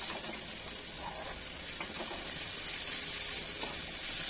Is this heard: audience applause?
no